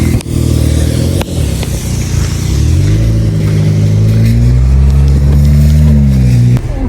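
A car engine runs loudly and close throughout, its pitch rising steadily as the vehicle accelerates, with a few sharp clicks and knocks over the steady roar.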